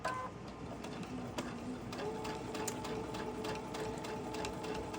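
A sewing machine stitches a quilt with a steady, rapid mechanical whir and ticking of the needle, fairly quiet and close, running continuously with no talk.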